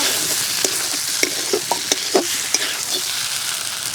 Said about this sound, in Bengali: এবার দিয়ে দেবো ভেজে রাখা সোয়াবিন।